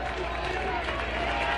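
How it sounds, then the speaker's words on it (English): Baseball crowd at a Penn State versus Washington college tournament game, with fans applauding in a dense, continuous wash of clapping that sounds distant and steady for the whole stretch. "Penn State fans on their feet clapping in unison"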